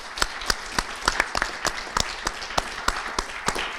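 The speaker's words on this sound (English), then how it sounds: "I think you deserve another round of applause." Sparse applause from a small audience after a panel discussion, individual claps landing at irregular intervals rather than as a full ovation.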